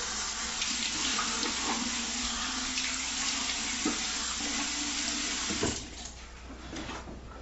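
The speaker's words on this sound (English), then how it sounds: "Cold water rinse." Tap water runs steadily from a faucet into a sink for a cold rinse during a wet shave, a close, even splashing flow that drops away near the end.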